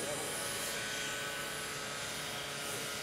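An electric scale model aircraft makes a flyby at an E-Scale flying event, heard as a steady, unbroken whirring drone with a constant pitch and level throughout.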